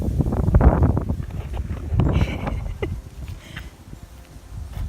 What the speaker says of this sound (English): it's windy as well. You probably can hear that on